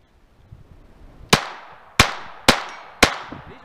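A Glock 44 pistol fires 36-grain rounds: four sharp, loud cracks at roughly half-second intervals, each with a brief ringing tail, after a quiet lead-in.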